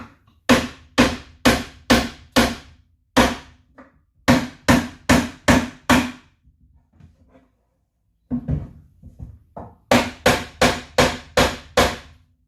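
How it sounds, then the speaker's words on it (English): Panel pins are hammered into a wooden squirrel feeder, sharp close knocks in quick bursts of four to six evenly spaced blows, separated by short pauses with quieter taps. "knock these pins in all the way first"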